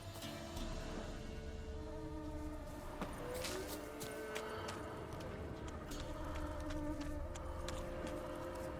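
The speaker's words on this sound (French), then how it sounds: "Il y a un bruit de mouche." A fly buzzes around a body in The Witcher 3, a faint, wavering drone that comes and goes over a quiet game ambience.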